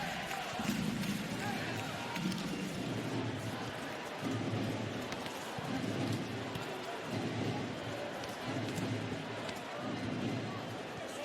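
A Trento crowd at a volleyball semi-final between Monza and Trentino roars in a continuous, loud wash of cheering, with rhythmic pulses of chanting or drumming and commentary voices over it.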